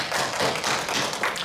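An audience at a public broadcast recording claps steadily in a dense, continuous burst of applause for over a second.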